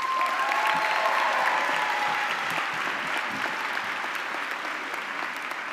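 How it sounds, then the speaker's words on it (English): A ceremony audience applauds the 2022 Order of Arete recipients at a USC student recognition event, a broad steady round of clapping with a few faint whoops that eases slightly toward the end. "Please join me in a round of applause for our 2022 Order of Arete recipients."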